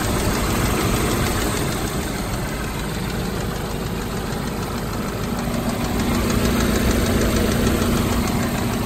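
A car engine that knocks at higher revs runs with a steady, loud, dense rumble and rattle throughout, with no voices over it.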